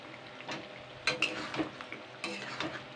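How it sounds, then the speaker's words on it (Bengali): Chicken gizzard and liver curry being stirred in a pan after garam masala goes in, with repeated utensil scrapes and clinks over a light frying sizzle. "একটু নেড়ে চেড়ে নেবো।"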